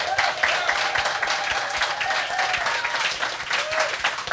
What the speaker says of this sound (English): Please have a nice round of applause for them.